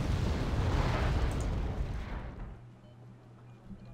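Artillery strikes in the video game Wargame: Red Dragon land as a heavy rumbling blast that swells and then fades over a couple of seconds into a low hum, with no voices.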